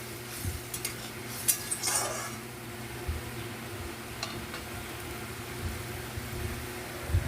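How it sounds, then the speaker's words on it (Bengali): Fish curry masala stir-fried in a pan makes a faint, steady sizzle, with soft spatula scrapes and a few clinks at the start. "তো এটা একটু কষিয়ে নিই ভালো করে"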